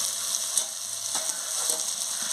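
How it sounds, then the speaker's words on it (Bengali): Potato, eggplant and onion curry sizzles in a pan as a spoon stirs it, soft scraping strokes over a steady, fairly quiet frying hiss. "খুলে নিয়ে ভালো করে নাড়িয়ে নিচ্ছি।"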